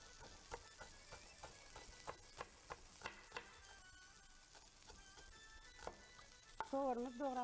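Food sizzles quietly in a pan with chopped onion while a utensil scrapes and taps in a steady stirring rhythm, ending with a louder clatter.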